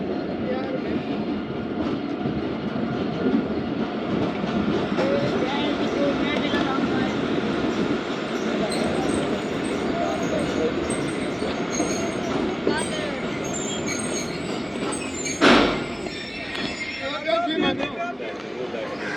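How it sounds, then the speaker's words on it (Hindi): The Zakariya Express runs on from Landi Junction, with a steady rumbling rattle of carriages and wheels heard from inside, a sharp squeal or bang near the end, and voices murmuring beneath the constant noise. "लांडी जंक्शन से ट्रेन रवाना हो चुकी है अपनी अगली मंजिल डिग रोड जंक्शन के लिए।"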